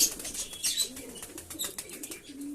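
Pigeons coo softly amid faint fluttering and light rustling, with no voices.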